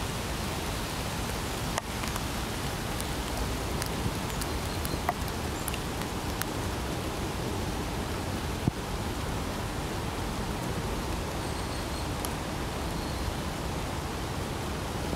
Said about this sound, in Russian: На улице дождь идет, не прекращается.